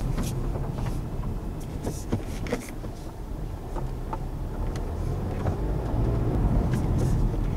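Honda Civic Type R, a 2018 model, running in comfort mode with a steady low engine rumble close by, scattered light ticks and clicks over it, and no voices.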